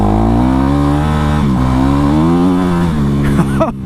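A Honda CRF450 dirt bike engine revs loud and close, a sustained buzzing drone that rises and falls in pitch, then drops off with a few sputtering blips at the end.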